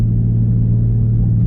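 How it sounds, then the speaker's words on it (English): A Dodge Charger 392 V8 with a lifter tick idles in a low, steady rumble, close and loud, with the engine's drone filling the brief moment and no distinct ticking standing out. "So basically, I got lifter tick."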